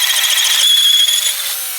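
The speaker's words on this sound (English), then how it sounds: "1/2-inch drill guide, start the hole," A power drill with a 1/2-inch drill guide whines loudly as it bores into a wooden gate, a high steady grind with no voices.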